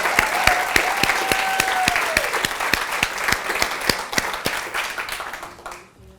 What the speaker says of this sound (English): Let's give both girls a round of applause so far.